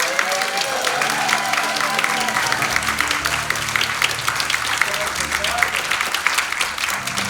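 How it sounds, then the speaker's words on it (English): An audience bursts into steady, full applause after a poetry reading, sustained clapping with some cheering and crowd noise mixed in throughout. "How about another big round of applause for"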